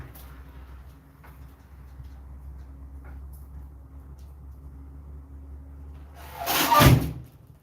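A door with a mind of its own gives a single loud bang or slam near the end, after several seconds of quiet background hum and a few faint knocks.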